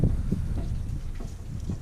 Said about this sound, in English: A little windy out, and the wind is trying to blow all my stuff around.